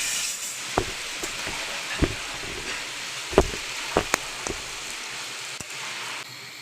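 Chicken pieces frying in plenty of hot oil for a Peshawari chicken karahi, a constant hiss and sizzle with scattered sharp pops and crackles, close and fairly loud, no talk.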